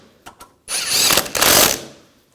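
A power tool snugs down bolts on the radiator cooling fan control module of a 2004-2009 Audi A4, giving a couple of faint clicks and then a loud, close whirring burst about a second long that fades away.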